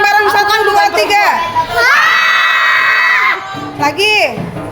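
Schoolchildren in a classroom shout together on a count of three, a loud sustained group yell in the middle, with an adult voice and children's chatter around it.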